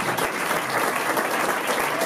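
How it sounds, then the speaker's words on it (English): Crowd at a blockchain hackathon in Stuttgart giving a round of applause, steady dense clapping from many hands at close range for the whole stretch. "Give yourselves a big round of applause for all the hard work that you have done"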